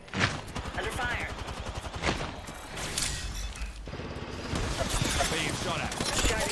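Rapid gunfire bursts crackle through an Apex Legends firefight, with dense overlapping shots, impacts and game effects running loud and continuous throughout.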